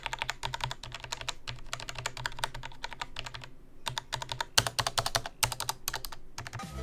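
Rapid typing on a budget semi-mechanical gaming keyboard with anti-ghosting keys, dense bursts of clicky keystrokes in quick runs with short pauses, close and fairly loud, no talking.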